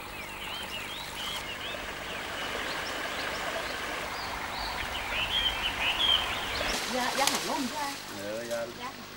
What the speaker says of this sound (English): The sounds of the birds and animals are carried to them on the wind.